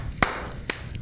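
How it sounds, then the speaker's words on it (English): Two sharp hand claps about half a second apart, close and crisp, marking the close of a take. "just do the clap to close."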